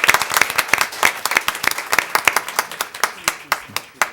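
Lively clapping from a small group, sharp individual claps close by in an irregular rapid rhythm, with voices mixed in under the applause.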